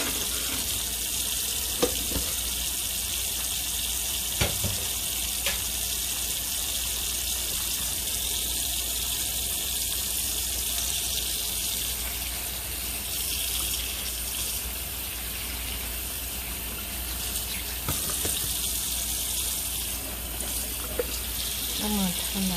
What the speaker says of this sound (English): I'm going to turn that water off since this paper is so delicate.